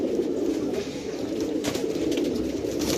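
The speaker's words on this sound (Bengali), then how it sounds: "এই যে দেখেন ডাকাটাই করতেছে কবুতর জোড়াটা" Soft, steady cooing from pigeons close by, a continuous low warbling murmur with no talking.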